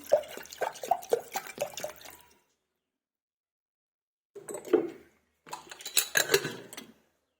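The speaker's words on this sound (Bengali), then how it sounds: "এবার একটু জল দিয়ে দেবো এর মধ্যে।" Water splashes onto washed dal in a pressure cooker for khichuri. Short, close pouring bursts with light clinks are separated by a stretch of silence.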